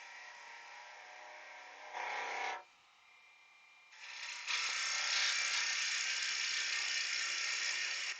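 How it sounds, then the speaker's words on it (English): Wood being turned on a lathe with a spindle gouge to shape an Easter bunny gives a thin, high scraping whir that comes in bursts, drops to a faint hum for a moment, then resumes steady and fairly loud. "We'll just switch over to spindle gouge now because the tip of it is shaped better for cutting in."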